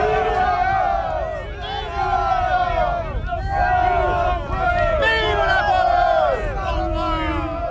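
Massed troops cheer and shout at a night bivouac celebration with torches lit, a dense, continuous crowd roar of many overlapping voices, steady and loud throughout.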